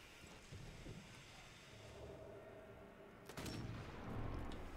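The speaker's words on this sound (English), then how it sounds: "I think they might be shooting big guns at us" Big guns firing on players in the Sniper Elite 4 co-op multiplayer game: low, faint rumbling bursts and distant shots, with one sharper, louder blast near the end.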